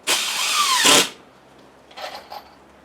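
Power drill driving a screw into a shelter knee wall section, one loud close whirring burst of about a second, followed by two short faint buzzes.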